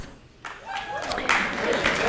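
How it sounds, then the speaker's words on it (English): Audience applause breaks out at a high school senior awards ceremony, rising after a brief quiet start into a dense, steady clatter of many hands, with a voice heard over it. "Or applaud, that's okay."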